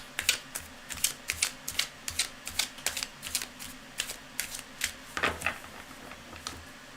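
A tarot deck being riffled and shuffled by hand, a run of quick crisp card snaps in uneven bursts, close and fairly quiet, with no talking.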